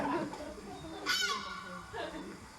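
A seagull gives a short, sharp squawking call in the middle, followed by a fainter second cry, heard against a low murmur of background noise.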